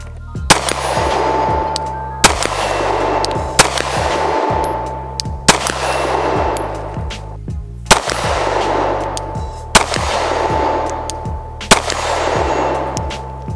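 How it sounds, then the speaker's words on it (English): Loud outdoor shots from a Glock 19 MOS pistol fired at distance targets: about eight single reports at a slow, uneven pace, each cracking sharply and echoing away before the next. "Now you guys know we got to try a couple distance shots."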